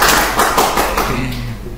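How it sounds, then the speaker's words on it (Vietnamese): A handful of people clapping for a classroom web-programming demo, a short burst of claps close by that fades as a voice starts talking near the end. "Vỗ tay"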